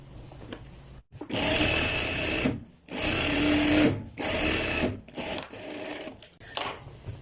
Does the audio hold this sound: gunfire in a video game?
no